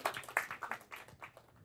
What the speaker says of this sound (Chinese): 可以拍手了